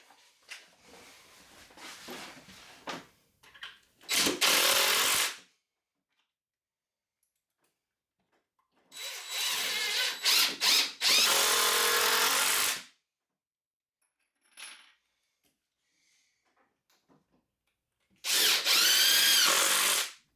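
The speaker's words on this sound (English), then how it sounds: "Screw the legs into the seat with 3-inch screws from the same holes as earlier, just from another angle." Power drill driving 3-inch screws into 2x4 bench legs and seat, three long loud whirring bursts, each a couple of seconds, separated by near silence and faint handling clicks, close up with no talking.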